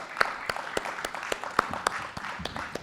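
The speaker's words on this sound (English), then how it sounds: "A big round of applause for Devidas" Audience applause greets the moderator of a Zero Trust cybersecurity panel at a conference, a thin scatter of claps with a few sharp individual hits, moderately distant.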